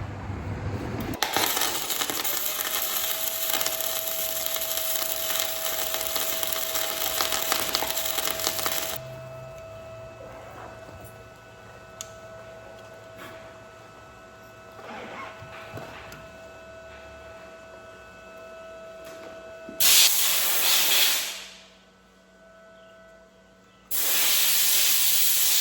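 An arc welder fuses metal onto a broken-off part stuck inside an engine build, giving a loud, crackling hiss in long sustained bursts of several seconds each, with quieter pauses and clicks between and another burst near the end.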